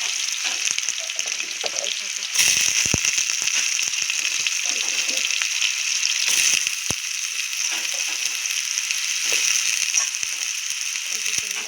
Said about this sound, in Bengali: আস্তে আস্তে তেলটা গরম হয়ে গেছিলো, আলুগুলোকে ভেজে নেবো।